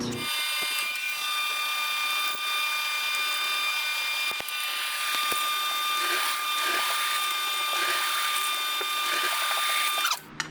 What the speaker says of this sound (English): just drilling out some pilot holes for the bigger bit.